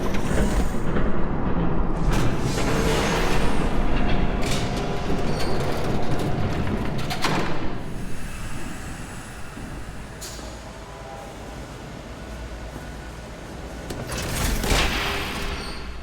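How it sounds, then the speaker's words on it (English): Train approaching in the video game Batman: The Telltale Series, a loud continuous rumble of rolling wheels and rail noise that swells and fades over about sixteen seconds with no voices. "There's a train coming."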